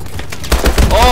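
A quick cluster of gunshots from the Call of Duty Advanced Warfare video game pops loudly in the second half of a very short moment.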